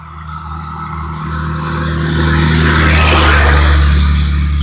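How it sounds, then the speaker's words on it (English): Traffic on a narrow roadside: a vehicle's engine drone rises and swells as it approaches and passes close by, loud and continuous, with no voices. "A lot of cars coming by"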